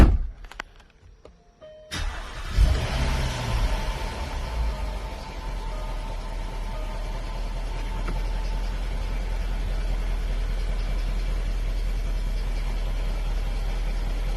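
A Jaguar Land Rover engine cranks and fires after about two seconds of near silence, then settles into a steady, close idle for the rest of the clip. The car had been showing a low coolant level warning.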